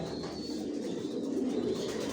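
Racing pigeons of Janssen lines cooing inside a loft, a steady low murmuring coo from several birds blending into a continuous close rumble with no voices.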